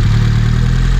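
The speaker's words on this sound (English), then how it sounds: "the engine just roars to life" A Honda Civic hatchback engine, back running after pushed-back connector pins were reseated, idles steadily with a low, even mechanical rumble, close and continuous with no talk.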